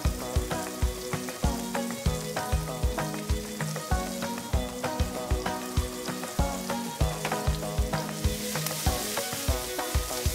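Chopped zucchini fries with golden garlic in a pan, a steady loud sizzle broken by regular rhythmic stirring scrapes close to the listener.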